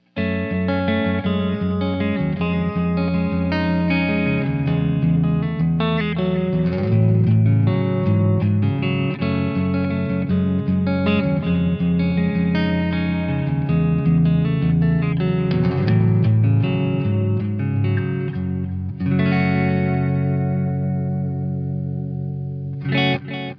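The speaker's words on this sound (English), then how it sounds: "turn on a little bit of delay in the effects loop" Electric guitar is fingerpicked through a PRS MT100 amp in a flowing pattern, each note echoing through a delay in the effects loop, loud and sustained, briefly pausing before a final ringing phrase.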